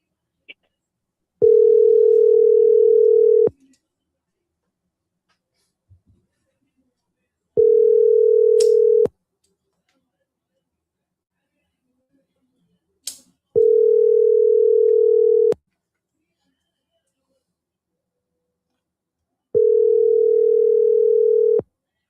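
A telephone ringback tone sounds on an outgoing call in four steady, loud pulses. Each pulse lasts about two seconds and is separated from the next by several seconds of near silence, and the call ends up going to voicemail.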